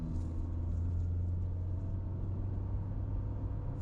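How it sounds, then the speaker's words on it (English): A 2015 Honda CR-V AWD with a 4-cylinder engine running while driving, producing a steady, low in-cabin rumble with road noise that holds constant throughout, with no talking. "So the Honda 4-cylinder in these it's very smooth."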